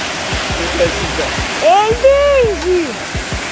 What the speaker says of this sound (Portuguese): Essa aqui é a Cachoeira da Toca.